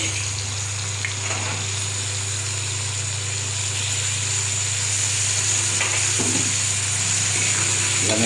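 Chicken meat sautéing in a spiced masala gives a steady close sizzle under a low hum, with a few soft stirring scrapes now and then.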